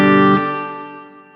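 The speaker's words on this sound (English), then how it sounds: "So it's a bright reverb trail." Electric guitar chord through a Sonicake Reverb pedal set at noon: a sharp strum that cuts off and leaves a bright, trebly reverb tail fading smoothly over about a second.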